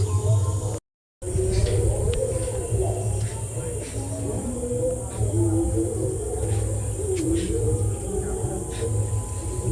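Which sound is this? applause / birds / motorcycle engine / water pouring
birds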